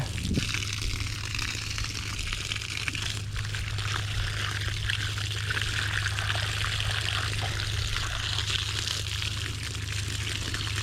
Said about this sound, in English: Let's rinse this hat off and see what we got going on with it now.